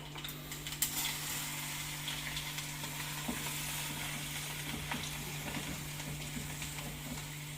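Cumin, mustard seeds, asafoetida and garlic fry in hot oil for a pickle tempering, giving a steady, quiet sizzle with scattered crackles and no voices.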